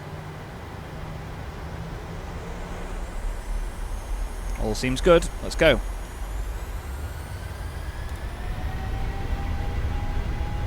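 Jet aircraft engines spooling up on the runway at Ibiza in Microsoft Flight Simulator, a steady rising roar with a climbing whine, under a brief spoken remark midway.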